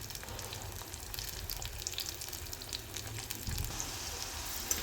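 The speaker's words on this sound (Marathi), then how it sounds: "यात आपण काजू पण फ्राय करून घेणार आहोत" Cashews fry in hot oil in a pan, giving a soft, continuous bubbling sizzle with faint crackles, steady and close but quiet throughout, with no voices.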